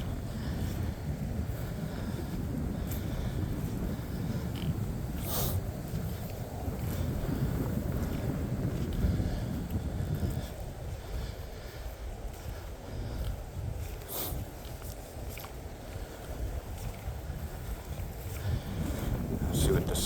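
Gusty wind rushes and buffets the microphone outdoors during an afternoon hike through the woods at Glendalough State Park, a steady low rumble that swells and eases across the whole stretch with no voices.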